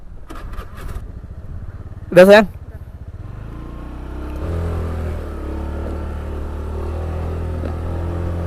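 A motorcycle in Sabang, a sibling's bike, starts up and settles into a steady running engine drone that builds slightly as the ride begins, with a short voice exchange early on.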